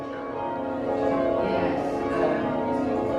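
Church bell being rung up, heard from inside the tower, with a sustained ringing hum of overlapping tones growing steadily louder and no talk.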